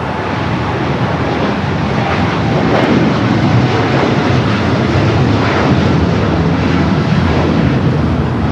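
An American Airlines Dreamliner bound for London Heathrow takes off at LAX, its jet engines producing a loud, steady broadband roar with wind buffeting on the microphone throughout.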